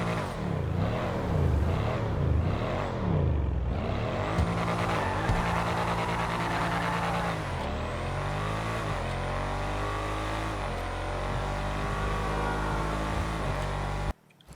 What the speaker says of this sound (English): the last thing I want to mention about the Shafter V12 is how good it sounds